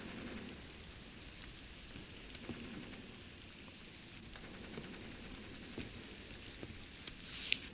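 Steady video game rain patters continuously on a surface at low volume, with occasional louder drops and no voices.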